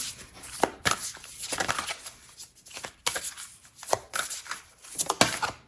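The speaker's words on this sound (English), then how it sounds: "I might cut out some of this shuffling." Tarot cards being shuffled by hand in a series of crisp riffles and slaps, close and moderately quiet, with short pauses between bursts and no talking.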